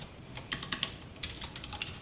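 Someone types code on a computer keyboard, a quiet run of irregular key clicks close by with a few sharper taps, alone with no talking.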